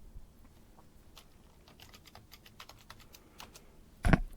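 Password keys tapped on a computer keyboard at an Ubuntu Linux virtual machine login, scattered quick keystrokes ending in one heavier, louder key strike.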